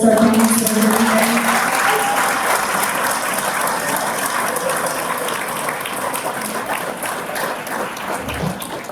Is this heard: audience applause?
yes